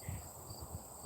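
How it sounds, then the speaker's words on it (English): Crickets chirping at home, faint repeated pulses in a loose rhythm against a quiet background hiss. "You've got a whole brand of cricket chirping on you for you."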